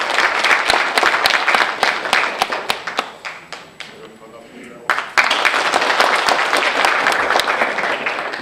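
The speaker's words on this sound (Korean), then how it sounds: "여러분 큰 박수로 환영해 주시기 바라겠습니다" An audience at an association's general meeting clapping to welcome a speaker, sharp individual claps in a lively patter that thins briefly in the middle, then surges back strongly to the end.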